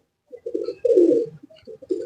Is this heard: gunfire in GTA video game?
no